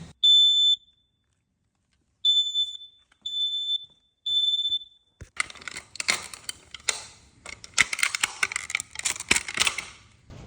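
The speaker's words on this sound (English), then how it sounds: "Smoke detectors got left out in the rain." Four short, high electronic beeps from a rain-soaked smoke detector sound at uneven intervals, followed by rapid clattering and rustling noise from nearby handling.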